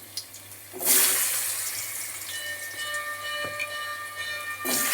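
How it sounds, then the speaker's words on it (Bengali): Diced potatoes drop into hot oil in a wok and set off a loud, steady hiss of frying that holds close and continuous, with no talk. "কড়াইতে তেল দিয়েছি তেলও আমার গরম হয়ে গেছে এইবার আলু দেখো আমি ডুমো ডুমো করে ছোট ছোট করে কেটে নিয়েছি এগুলো আগে ভেজে নেবো আলুগুলো দিয়ে দিলাম"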